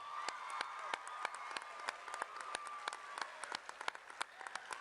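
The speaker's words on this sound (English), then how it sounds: "Let's give Alex a round of applause" Audience applause at a school event where the next NASA Mars rover name is announced, a steady crowd of claps with sharp individual hand claps standing out, continuous for the whole stretch.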